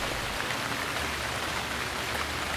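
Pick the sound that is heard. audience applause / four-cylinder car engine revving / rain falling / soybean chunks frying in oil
rain falling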